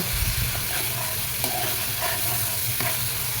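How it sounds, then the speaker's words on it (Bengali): Dried chapa shutki fish stirred and frying with spices in a pan makes a continuous close sizzle and hiss, with occasional spoon scrapes and taps. "এখন ভালোভাবে মশলার সাথে মিশিয়ে কষিয়ে নেব চাপা শুটকিটাও।"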